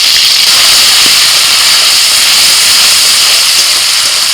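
Ginger, garlic and green chili paste sizzling loudly in hot oil with tempered cardamom, cinnamon and cloves for egg biryani, a dense continuous close hiss throughout with no talking.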